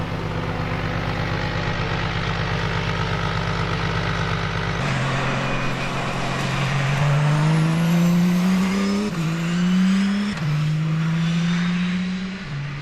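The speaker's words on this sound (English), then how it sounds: "When we ignore the atrocious diesel sound" Audi diesel Le Mans race car engine: a low steady idle-like drone for several seconds, then a loud, deep, rough diesel roar rising in pitch through gear changes with repeated upshifts, close and alone.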